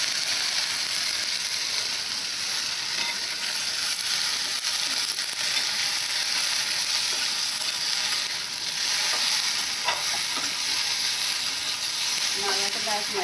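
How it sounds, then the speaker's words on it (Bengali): Okra and egg fry in a pan with a loud, continuous close sizzle, broken by occasional scraping and stirring clicks. "আর শুরু থেকে শেষ অবধি থাকবা, হালকা করে ভেজে নেবে।"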